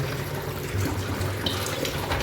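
Tap water runs steadily into a sink as beef is washed by hand, a continuous close splashing rush with slight shifts as the meat moves under the stream.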